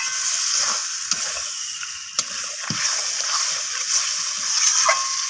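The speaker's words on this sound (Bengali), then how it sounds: "তো মাছটাকে এইভাবে নাড়াচাড়া করে আমি কষাতে থাকবো।" Lote fish (Bombay duck) with onion and tomato sizzling and frying in a pan while being stirred, a continuous close hiss with occasional scraping knocks of the utensil.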